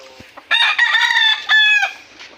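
A rooster crows loudly and close by in a backyard, one long drawn-out call with a short break partway through, with faint clucking from chickens around it.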